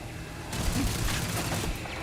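Automated turrets fire on the player in Starfield, a sci-fi video game: a dense, continuous burst of gunfire breaks in after a brief quieter start and keeps going, loud and close.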